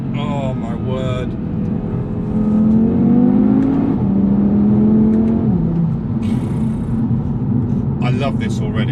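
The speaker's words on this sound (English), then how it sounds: "you can hear that distinct 5-cylinder noise" A 2019 Audi TTRS with a 2.5 litre five-cylinder engine revving from inside the car, a loud rising and falling drone that swells through the middle and settles, with people talking over it at start and end.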